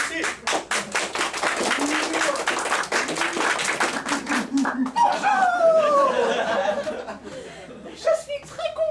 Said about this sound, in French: À toi Françoise, applaudissez.